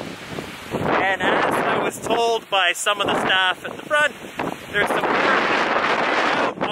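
Wind blows across a microphone outdoors at a large marine park site under construction, a steady broadband rush that continues loud beneath someone talking throughout.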